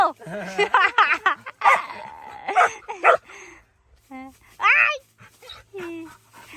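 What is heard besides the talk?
dog barking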